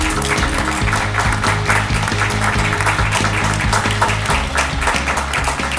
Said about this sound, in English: Graduates, would you please stand, turn around, and thank your family members with a warm,